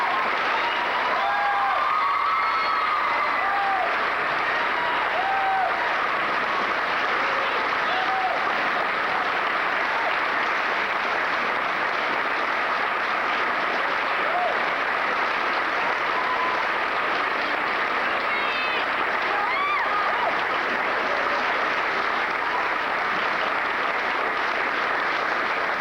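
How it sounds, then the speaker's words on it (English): Sustained applause from a graduation ceremony audience honoring a retiring staff member, steady dense clapping for the full stretch with faint voices and a few cheers mixed in, no break or pause. "How about a nice round of applause?"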